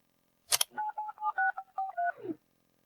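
A sequence of about eleven telephone keypad dialing tones, short crisp beeps at an irregular quick rhythm, close and clear with no talk over them, preceded by a brief click.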